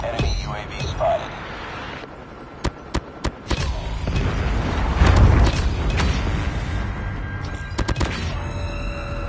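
A predator missile strike in a team deathmatch shooter game, with heavy booms and rumbling blasts mixed among sharp gunfire cracks and game announcer voice lines throughout.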